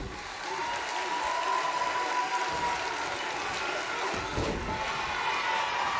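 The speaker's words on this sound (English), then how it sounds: "This crowd really getting into this match." A wrestling video game crowd (WWE 2K19) cheers and applauds steadily through a match, a loud continuous roar with swelling bursts.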